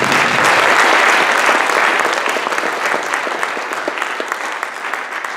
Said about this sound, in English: let's give a round of applause for Mike Burns.